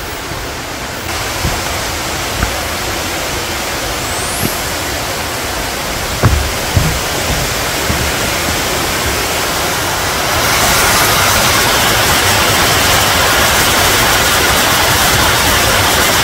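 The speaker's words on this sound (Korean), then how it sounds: "가마소 폭포를 잠시 보고 가겠습니다." The Gamaso waterfall in Korea roars nearby in September as a continuous, dense rush of water, steady throughout and growing slightly louder toward the end.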